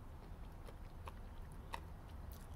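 Someone chews crunchy Planters pumpkin spice almonds, a few faint, close crisp crunches spaced irregularly over quiet background, with no speech.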